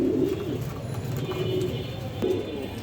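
Ice bar Damascene pigeons coo close by in a breeder's loft in a low, soft, repeated burble, with a steady background hum underneath.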